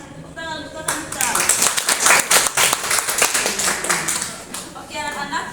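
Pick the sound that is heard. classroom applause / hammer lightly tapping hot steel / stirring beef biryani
classroom applause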